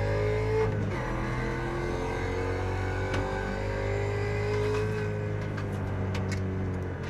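A race car engine in a racing video game, a Mazda MX5, VW TDI or Mustang at Virginia International Raceway, drones steadily and loudly, its pitch rising as it accelerates out of a corner, with no talk.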